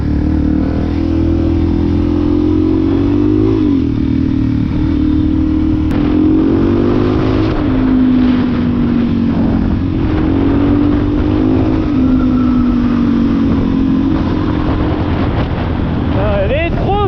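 The engine of a new motorcycle drones loudly and steadily while riding, its pitch shifting with the throttle and climbing in a rev near the end, amid heavy wind rush and occasional voices.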